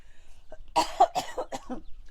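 A short burst of several rough coughs in quick succession, close and fairly loud, with no talking.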